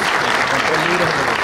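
An audience at a university panel discussion applauds the panelists, with dense, steady clapping that stays loud and continuous from start to finish.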